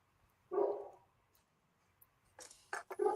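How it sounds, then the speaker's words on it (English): Dog barking indoors during an online meeting: two short, sharp barks heard alone, a single bark followed by a quick cluster about two seconds later. "Dr. Kane, is that your dog?"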